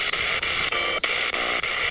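Steady radio static hiss with a faint warbling tone, briefly cutting out in short dropouts every few tenths of a second.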